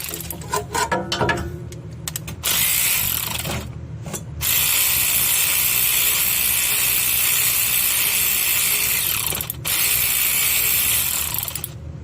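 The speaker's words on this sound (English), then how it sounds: "And we gotta get the banjo bolt off." Ratchet wrench clicking as it loosens the banjo bolt on a 2015 Toyota Corolla rear brake caliper, a steady close-up run of ratcheting clicks with brief pauses, no talking.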